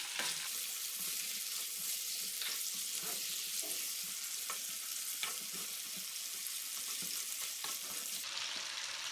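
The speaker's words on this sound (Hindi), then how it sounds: "मोटी सब्ज़ मिर्च डालकर थोड़ा सा फ्राई करें और चिकन डालकर तेज़ आंच पर अच्छी तरह भून लें" Chicken with thick green chillies frying on high heat in a karahi, a continuous close sizzle punctuated by scraping stirs and clinks of a ladle, quiet overall with no talk.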